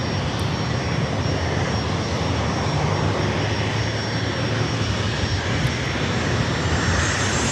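A NetJets Boeing 737-700 at San Diego airport gives off a loud, continuous jet engine roar, close and unbroken throughout, with no voices over it.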